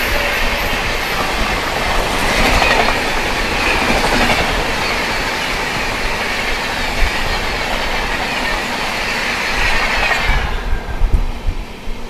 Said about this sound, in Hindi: ये थी आप लोगों की हिसार इंदौर सुपरफास्ट एक्सप्रेस